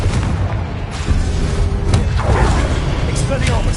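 A booming blast-spell explosion from a wizard video game rumbles loud and low through constant game noise, with a deep sustained roar and a few brief cracks on top.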